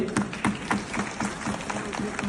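An audience at a national conference of homeopathic doctors claps in a steady rhythm of loud, evenly spaced beats, with voices faintly underneath.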